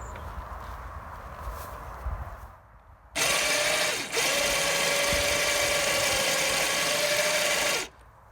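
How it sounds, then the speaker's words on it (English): Winch hauling a 1960 Bolens Ride-a-matic tractor onto a trailer: a loud, steady mechanical whir with a sustained tone runs for several seconds after a quieter stretch, with a brief dip midway before it stops abruptly. "we'll see how winching it onto the trailer goes"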